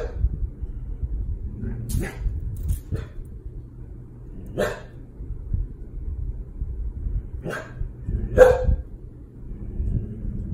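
A dog barks in an indoor hallway, caught on a home video: several sharp, separate barks spaced across a low, hollow room background, with a few softer yips between them.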